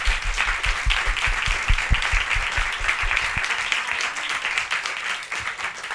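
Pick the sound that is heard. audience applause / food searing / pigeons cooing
audience applause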